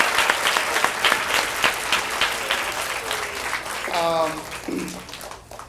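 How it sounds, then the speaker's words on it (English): Applause from an audience at a school event, steady clapping that carries on while a voice begins speaking over it near the end. "Please give them a round of applause"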